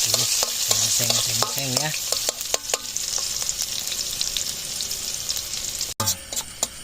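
Food is stir-fried in a pan late at night at an outdoor spot in a rice field during the shallot harvest. A spoon scrapes and stirs busily over constant sizzling, and a voice speaks briefly.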